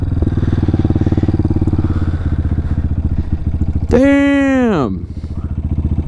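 A Honda CBR 1000 motorcycle's engine throbs nearby in a steady pulsing rumble, and a voice briefly cries out partway through.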